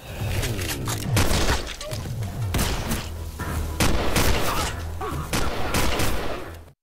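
Dense bursts of gunfire pound through an action-film shootout, heavy overlapping shots with booming impacts and shattering crashes, loud and continuous over a rumbling score.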